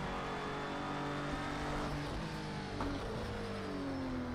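LMP2 race cars approach in Project Cars 2, their engines rising as a faint whining drone with a climbing pitch sweep, heard alongside steady car noise and no talk.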